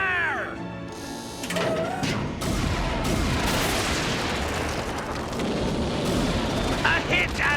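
Cartoon space battle with spaceship gun batteries opening fire in a dense, continuous barrage of blasts and booms, loud and sustained, following a brief opening of synth tones.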